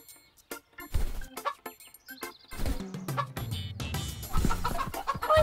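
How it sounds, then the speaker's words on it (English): Cartoon chickens cluck and a rooster crows on a farm, with sharp, lively bursts of clucking and squawks close up, backed by bright musical tones and no talk. "Chickens, time to wake up."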